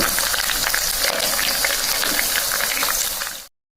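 A lemon pickle with garlic, ginger, curry leaves and green chilli sizzles and bubbles steadily in a pan as it is stirred, a close, continuous frying hiss that stops suddenly.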